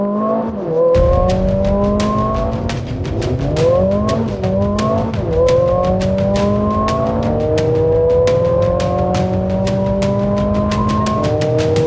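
A Mercedes-AMG CLA 45 S 4Matic+ with a 2-litre engine accelerates hard to 100 km/h, its loud engine note climbing steadily through repeated gear changes with sharp shift cracks, heard close and alone.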